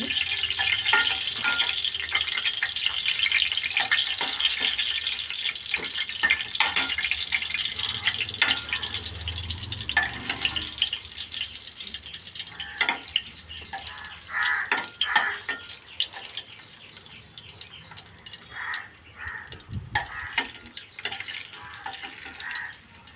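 Ash gourd and black gram lentil fritters frying in hot oil, a continuous bubbling sizzle with scattered crackles and pops, fairly steady and close, fading somewhat near the end.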